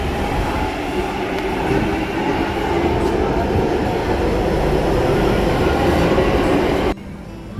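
A London Underground train rumbles loudly and steadily, wheels clattering on the rails, before the noise cuts off abruptly near the end.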